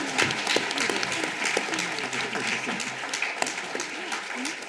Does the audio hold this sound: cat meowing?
no